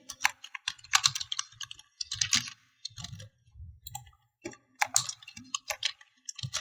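Rapid keyboard typing on a computer while entering Python code, irregular bursts of crisp clicks and key taps, close and fairly quiet, with no voice.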